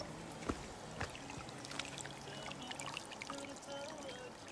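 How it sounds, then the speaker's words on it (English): Water trickles and pours over rocks outdoors, a faint, continuous babbling stream with small splashy spikes and no talking. "the water going through the rocks"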